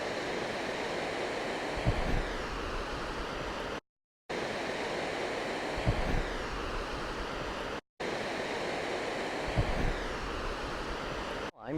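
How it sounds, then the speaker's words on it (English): Water rushing through a dam pours steadily in a broad, constant roar, with a few low thumps and short silent gaps. "Here's the water coming through."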